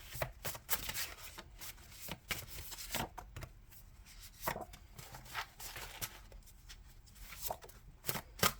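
A deck of tarot cards is shuffled by hand in a steady run of soft, close riffling and slapping bursts, quiet and continuous with no talk.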